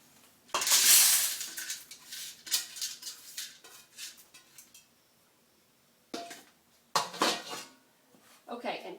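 Dry pinto beans tipped into a pressure cooker pot, a loud hard rattling clatter up front followed by scattered clinks and knocks of metal cookware, with a pause and then more clattering bursts.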